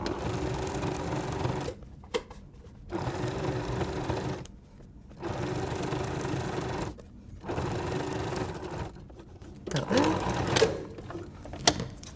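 Domestic sewing machine stitching binding around a quilt, running in repeated bursts of steady whirring separated by short pauses, with a voice talking over parts and small handling noises near the end.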